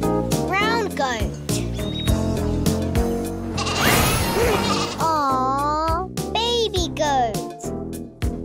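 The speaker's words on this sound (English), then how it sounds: "Brown goat." A brown goat lets out a series of loud, quavering bleats, spread through the stretch, with voices talking in between and a tonal musical backing throughout.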